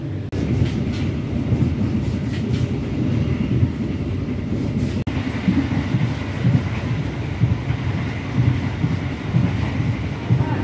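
The Singasari passenger train runs at steady speed, a loud continuous rumble from inside the carriage with rhythmic wheel clatter and a constant roar throughout.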